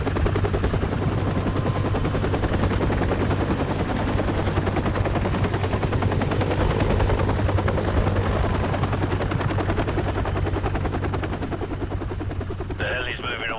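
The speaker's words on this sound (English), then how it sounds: "The heli's moving away." Helicopter in Call of Duty 4: Modern Warfare, a loud rhythmic rotor thump and engine hum that holds steady, then eases and fades slightly toward the end as it moves away, with a brief voice at the close.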